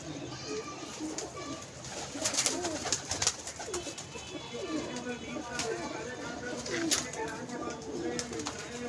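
Pigeons at a pigeon club coo steadily through the whole stretch with soft murmuring calls, while people talk nearby and some handling noise comes and goes.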